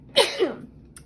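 A single close sneeze set off by a strong scent from a newly lit candle, a sharp loud burst followed by a quick softer trailing breath, with no talking around it.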